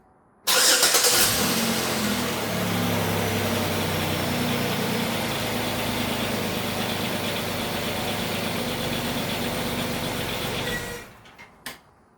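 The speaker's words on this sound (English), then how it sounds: "I will now start the vehicle, run it for about 10 seconds, shut it off." A 2005–2008 Chevrolet Equinox engine cranks and catches, then idles steadily and loudly for about ten seconds before being shut off, with no talking.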